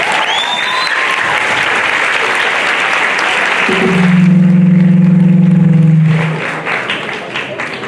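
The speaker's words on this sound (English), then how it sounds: "Please give Nabil al-Maskari another round of applause." Audience applause fills a high school assembly hall for a UAE National Day program at the American Community School of Abu Dhabi, dense and steady for about four seconds, then cut off by a loud sustained low tone before fading into faint noise.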